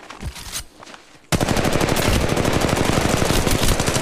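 Rapid automatic weapon fire from Apex Legends Mobile, loud and continuous, erupting after a second of quieter shots and scuffling, then sustained dense bursts without pause.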